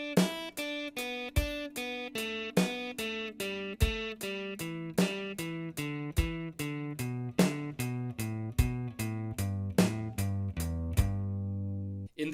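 Open G pentatonic scale on guitar, played as a descending three-note sequence lick: a steady run of clear plucked notes, roughly two per second, ringing alone with no voice.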